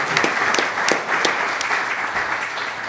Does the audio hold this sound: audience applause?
yes